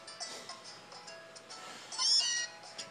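A person imitates a cat in a sassy voice, giving a single short, nasal meow near the end over quiet room background.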